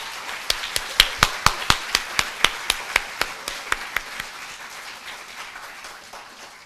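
Audience applause for Justice Carpio at a formal morning proceeding, with loud sharp claps, some standing out above the crowd, that thin out after about four seconds and fade into a light, dwindling patter.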